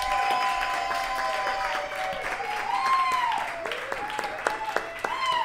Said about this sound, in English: How about another round of applause for Robin Hatch, everybody?